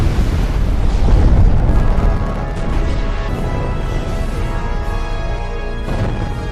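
Drones failing at launch explode in a loud, rumbling roar of blasts that swells early and then continues as a dense, crackling, booming wash with scattered bursts, fairly close.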